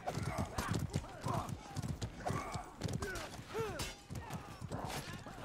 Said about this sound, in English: Kill the horse